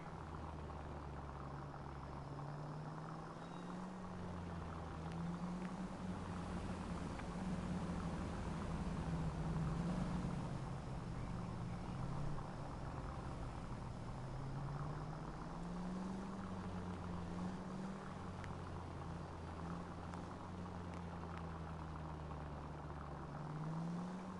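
A car in L.A. Noire cruises through city streets behind a taxi, its engine holding a low, gently wavering drone under quiet traffic noise.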